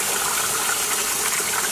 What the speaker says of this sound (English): I have the more colored portions just sort of running under the water